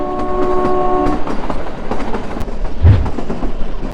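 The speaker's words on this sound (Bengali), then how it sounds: "এখন কিন্তু পাহাড়ে উঠতে শুরু করে দিয়েছে আমাদের টয় ট্রেনটা, সেরকম লেভেলের কার্ভ নিচ্ছে।" The Kalka–Shimla toy train climbs a curving mountain line, sounding a loud, sustained horn at the start while the rolling clatter of its wheels continues close and steady.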